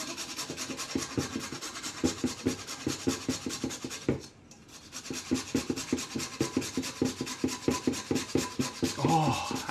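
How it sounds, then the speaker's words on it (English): Whole fresh nutmeg grated in quick, even rasping strokes, close and fairly loud, with a brief pause midway before the rhythmic scraping resumes. "I have fresh nutmeg, so I'm going to grate pretty much this whole thing and just mix it in."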